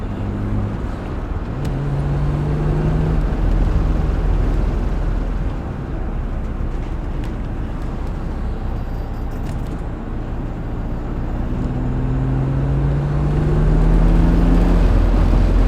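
A rebuilt BMW E36 M3 engine drones steadily from inside the moving car, its low rumble and road noise continuous, with pitch climbing slightly during brief accelerations.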